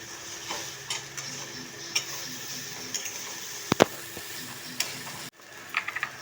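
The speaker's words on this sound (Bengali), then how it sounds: "সেই জন্য একটু খুন্তি দিয়ে মিশিয়ে নেব" Spatula scraping and stirring flattened rice pulao with nuts, raisins and green chilli in a pan, a steady soft scratching broken by a few sharper clacks against the metal, then a brief pause before more taps.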